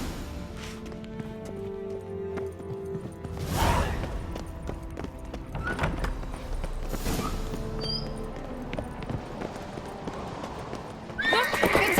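Horses gallop with steady clip-clopping hooves and occasional whinnies in The Witcher 3, the hoofbeats continuous and fairly loud across the whole stretch with a louder burst near the end.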